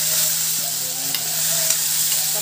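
Boiled potatoes go into a pan of frying onions and get stirred, giving a continuous even sizzling hiss over a low steady hum, with a few faint scrapes.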